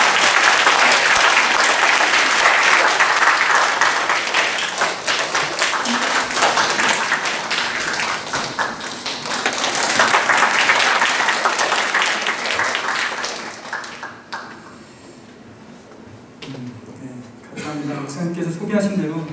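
An audience in a church service applauds a nervous pastor coming to speak, dense sustained clapping for about fourteen seconds before fading, with voices coming in over the tail.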